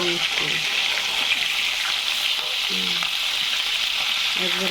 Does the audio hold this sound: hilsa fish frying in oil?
yes